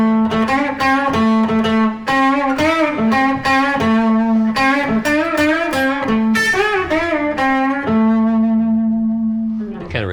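An electric guitar plays the ending part of a song, a busy, steady run of picked notes and chords that slows toward a held final note, loud and close.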